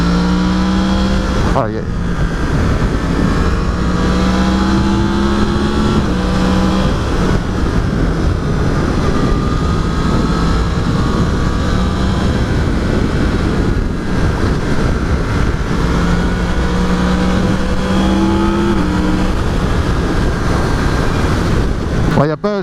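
A 2019 Yamaha MT-10 roadster with a four-cylinder crossplane CP4 engine is ridden hard, producing a loud, continuous engine roar whose pitch climbs and falls with the revs, mixed with wind noise and a brief spoken exclamation.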